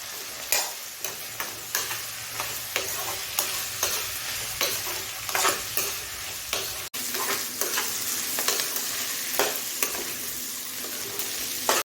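Onions frying in hot oil with green chillies and bay leaves for a chicken curry with coconut, a steady sizzle broken by repeated scraping stirs of a spatula, close and fairly loud with no talk.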